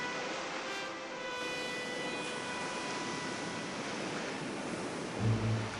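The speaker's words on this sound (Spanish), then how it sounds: "un mar agitado golpea las olas como si presagiara el desastre que se avecina" Rough, agitated sea surf crashes in a steady broadband roar with gusts of wind, loud and continuous throughout, with a brief swell near the end and no voices.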